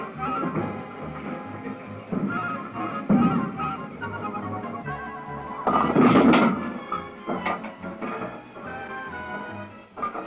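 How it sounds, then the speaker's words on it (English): Mechanical pin setter at a 1960s bowling alley in Britain clearing away the downed pins, a busy run of thunks, clatters and whirring machinery with a loud crash of pins around the middle. "The pin setter does its stuff, clears away the down pins, and replaces the 4 exactly where they were"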